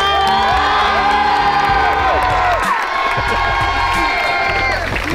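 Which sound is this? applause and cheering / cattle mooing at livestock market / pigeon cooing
applause and cheering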